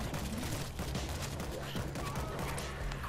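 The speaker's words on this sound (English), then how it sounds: "Machine gun is set." Sustained automatic gunfire from a mounted machine gun in the World War Z video game, a dense continuous rattle of shots filling the whole stretch with steady loudness.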